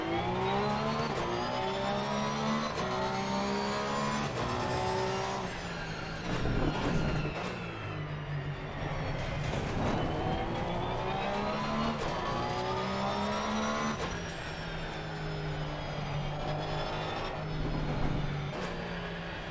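Porsche 911 GT3 engine revving and shifting through gears on the Nürburgring in a racing video game, a loud continuous drone that rises and falls steadily with no voices.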